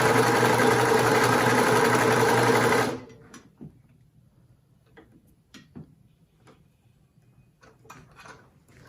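Sewing machine stitching a cloth face mask, a loud fast steady whirr for about three seconds that stops abruptly, followed by quiet clicks and handling noises of fabric and presser foot.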